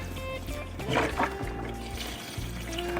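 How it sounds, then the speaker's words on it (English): Chicken broth poured from a carton into a pot for shrimp bisque, a steady close liquid trickle and splash running throughout without speech. "So we're going to add some chicken broth."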